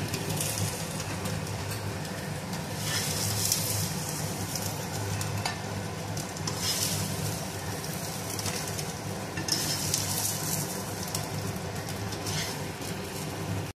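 Ingredients frying in oil in a wok for papaya curry give a steady, close sizzle that runs throughout, with occasional louder crackling bursts and stirring, no talk.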